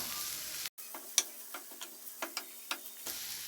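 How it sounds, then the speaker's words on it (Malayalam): An onion masala with turmeric powder is sautéed for beef curry: a close, even sizzle broken by a brief silent gap, then a run of rhythmic spatula taps and scrapes. "ഇപ്പോൾ മസാല ഇവിടെ നന്നായിട്ട് വഴറ്റിയെടുത്തിട്ടുണ്ട്"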